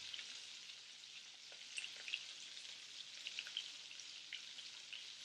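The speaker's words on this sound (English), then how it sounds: "we're going to sear it just a little bit longer till we get the nice golden brown" A pork chop sears in a pan with garlic and butter, a steady soft crackling sizzle with scattered spitting pops, close and continuous, with no talking.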